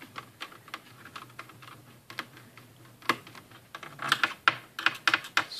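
Small screws being worked loose from the hard drive bay of a Sony Vaio VGN-N38E laptop, a run of dry clicking ticks and scrapes that grow denser and louder toward the end, close up with no talking.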